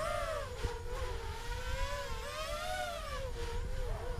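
A Shuriken 250 racer quadcopter drone flies in acro mode, its motors giving a loud, continuous high-pitched whine that rises and falls steadily as the throttle shifts, with no talk.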